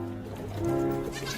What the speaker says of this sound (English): Oh my God, look at that sheep, though.